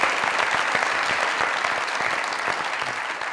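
Studio audience at a comedy talk show breaks into dense, sustained applause, a steady wash of many hands clapping close and loud for several seconds without letting up.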